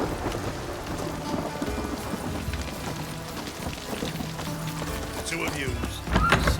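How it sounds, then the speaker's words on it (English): Steady rain falls with rolling thunder in The Witcher 3, a continuous wash of downpour beneath a low rumble that swells near the end, while a voice speaks over it. "Rain again."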